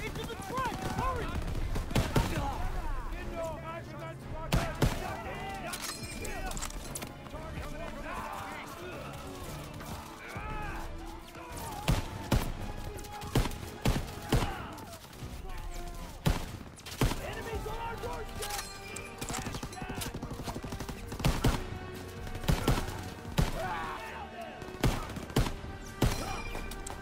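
Dense World War II video game battle gunfire: rapid machine-gun bursts and single shots crack over and over, loud and close, mixed with shouting voices throughout.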